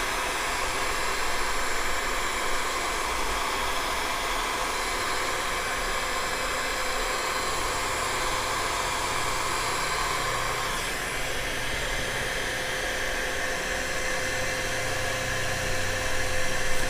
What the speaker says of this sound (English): a hairdryer will work